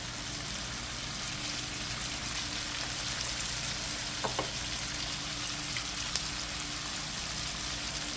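Curry chicken pieces seasoned with curry powder frying in a pan, giving a steady, even sizzle that runs throughout with a few faint clicks and no talking.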